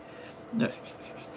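A single brief, quiet rasp of sandpaper rubbing against a small paper model part, set against faint room noise.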